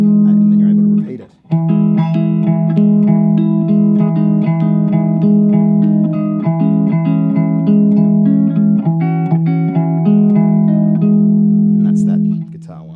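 Electric guitar playing a bar chord riff with a steady sustained tone, close and clear, after a brief pause at the start.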